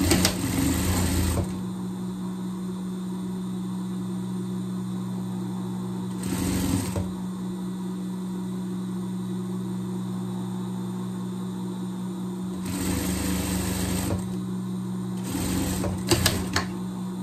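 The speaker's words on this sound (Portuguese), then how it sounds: "Mesma coisa do outro lado, costura debaixo do braço," Four separate bursts of rapid stitching come from a sewing machine sewing the underarm seam of a pet jester costume, each a second or so long, with quiet pauses between them over a low, steady hum.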